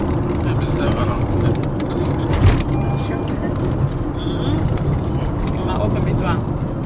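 Road rumble and engine drone from a car in motion in Cameroon fill the inside of the cabin steadily, with people talking over the low hum.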